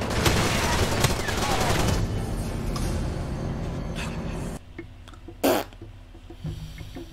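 Enemy gunfire in the video game Far Cry 2, a dense barrage of shots amid jungle fighting that is loud at first, then a quieter stretch broken by one sharp burst.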